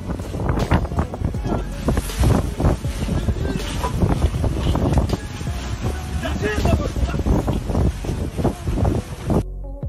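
Strong wind buffets the microphone in heavy, continuous gusts, a loud roaring rush with rumbling low-end bursts throughout.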